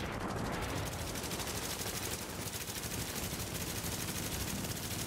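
Rapid explosive-round gunfire in the Tom Clancy's The Division video game, a dense, continuous automatic burst of shots with a loud, steady rattling texture throughout and no speech.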